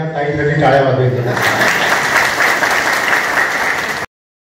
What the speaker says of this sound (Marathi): ताईसाठी टाळ्या वाजवायच्या